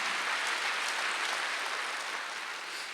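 A church congregation at a Wednesday worship service applauds steadily, giving a full, even roar of clapping that tapers slightly toward the end.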